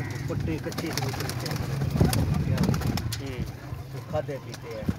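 Several close pigeons coo in repeated soft, throaty rolls, with someone talking over them most of the time.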